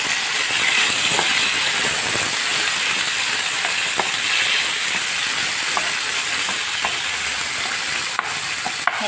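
Food frying in a pan while it is stirred gives a steady, dense sizzle throughout, with occasional faint clicks of the utensil and no talking.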